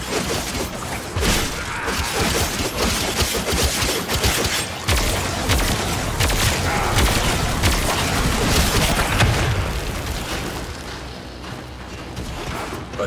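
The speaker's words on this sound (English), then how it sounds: "Missiles incoming." Incoming missiles explode in a Warframe Railjack space battle, a loud, sustained barrage of booms and crashes that rumbles continuously and then eases slightly toward the end, with no voices.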